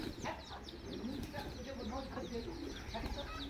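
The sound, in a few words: chicken clucking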